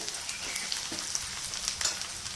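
Mutton pieces coated in ground cumin paste sizzle and crackle in a hot pan during a short burst of frying, a close, steady hiss with small pops.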